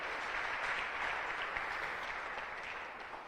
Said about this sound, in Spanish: Dale una ofrenda de palmas a nuestro gran Rey de Reyes.